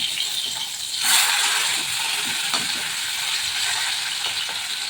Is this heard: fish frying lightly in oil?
yes